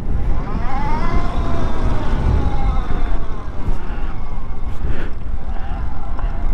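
An Energica Ribelle RS electric motorcycle pulling away with a rising electric whine over steady wind and road noise, while the rider talks.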